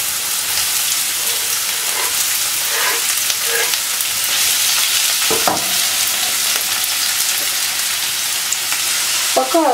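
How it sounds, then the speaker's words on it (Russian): Onion and carrot sizzle and crackle steadily in a hot pan, with occasional scraping clinks of a utensil stirring them. "Пересыпаем теперь овощи. Начинаем их обжаривать."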